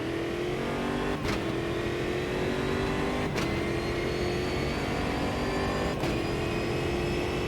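Stock car V8 engines roar during a race in the sim game Automobilista 2, a loud continuous drone from close up, broken by brief bursts as shifts or passing cars come and go.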